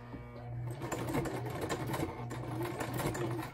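Sewing machine running a zigzag stitch over old jeans, a steady close buzzing hum with rapid rhythmic needle clatter throughout.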